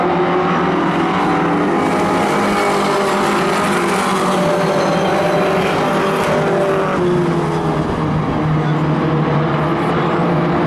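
Race cars in a short-track division battling side by side, engines roaring steadily and loudly throughout with a dense, continuous drone and no speech.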